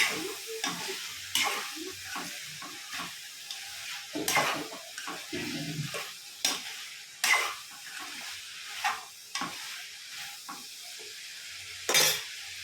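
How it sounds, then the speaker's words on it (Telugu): A ridge gourd curry is stirred in a pan, with repeated scraping strokes of a spoon against the metal over a soft sizzle, at an uneven, unhurried pace. "ఇలా ఒకసారి మొత్తం కలుపుకుందాం."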